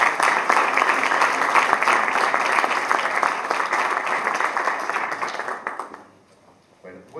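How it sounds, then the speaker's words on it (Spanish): Audience applause at an inaugural university course lecture, welcoming Dr. Marcelo Cavarossi; loud sustained clapping fills the hall, then fades out near the end into quiet room noise. "Pido un aplauso para el doctor Marcelo Cavarossi."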